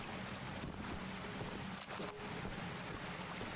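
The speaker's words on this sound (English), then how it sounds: "I can't hear the sound of the toots over these ocean waves" Ocean waves wash steadily in Choo Choo Charles, a continuous broad rushing roar with windy, boat-like ambience and a brief dip in the middle, heard alone with no talking.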